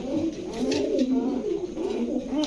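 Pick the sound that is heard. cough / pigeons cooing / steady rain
pigeons cooing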